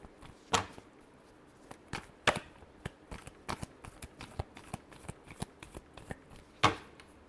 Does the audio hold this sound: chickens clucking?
no